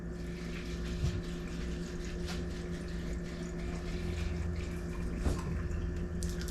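White distilled vinegar pours into a jar packed with pine needles, a continuous steady liquid rush and gurgle at moderate level with a few small knocks.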